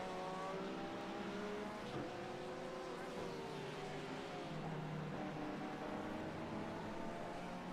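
A Porsche race car engine howls steadily around the Okayama circuit in a racing video game, its pitch rising and falling through gear changes, faint and continuous under a commentator's voice.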